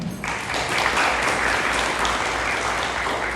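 A graduation ceremony audience bursts into sustained, dense applause that holds steady for a few seconds, a crowd of hands clapping together in a large hall.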